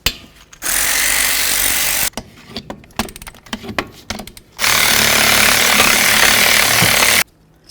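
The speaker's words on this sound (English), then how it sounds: "Go ahead and remove your 2 caliper slider bolts." Pneumatic impact tool buzzing in two long, loud bursts as caliper slider bolts are removed from a Ford Fusion brake, separated by clicks and clattering handling noises.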